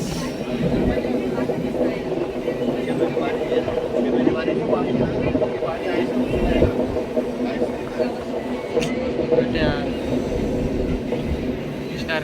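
Steady rumble and rhythmic clatter from inside a moving train carriage, with faint voices in the background throughout.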